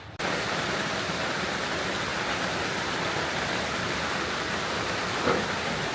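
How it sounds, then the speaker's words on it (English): Heavy rain pouring off a roof makes a dense, constant hiss that starts abruptly and holds steady throughout, loud and close with no voices. "Can you see how heavy the rain is coming off that roof?"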